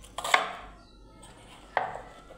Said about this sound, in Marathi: आधी तर पहिला कांदा कापून घेऊया आपण.